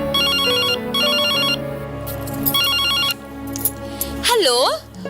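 A telephone ringtone rings in repeated electronic bursts when someone calls home, with music playing underneath and a rising, swooping tone near the end.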